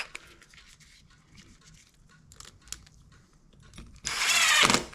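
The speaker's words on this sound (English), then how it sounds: "it's a low torque gun" Low-torque impact gun working on bolts of an Inmotion RS electric scooter during a tire job; quiet bench clatter and handling noises give way to one loud, close, buzzing burst of about a second near the end.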